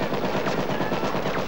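Rapid automatic gunfire rattles from a farmstead, an unbroken stream of close, loud shots rattling steadily through the whole short burst with no voices over it.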